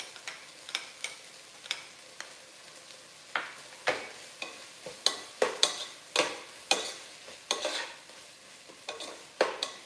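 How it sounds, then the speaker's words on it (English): Repeated scraping stirs of sautéed onions with ginger garlic paste and a halved green chili in a pan, sharp irregular clacks over a steady low sizzle, close and fairly loud with no talking. "So give it a good mix."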